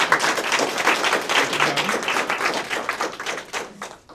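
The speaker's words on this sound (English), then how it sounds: "everyone give a great round of applause" An audience claps together for a few seconds at an interview event, a dense and steady patter of many hands that fades toward the end.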